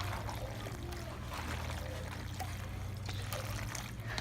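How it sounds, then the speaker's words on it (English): Water poured into a pot of soup to thin it for homemade macaroni and cheese, a steady close trickle and splash running throughout under a low background hum. "I have a little bit of water to dilute my soup just a little bit"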